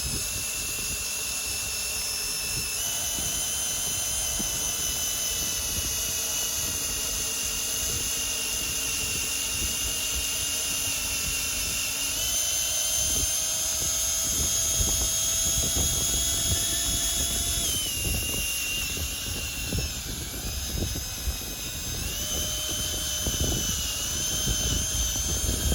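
A drill bores into a wooden post in an Australian yard, a long steady whining drone with pitch dips as the bit bites and pulls back, close and continuous without talk.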